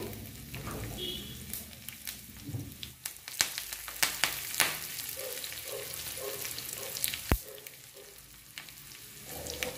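Dried red chillies and asafoetida sizzling in hot oil for a Guntur gongura pickle, a steady close frying crackle with sharp pops and occasional stirring scrapes.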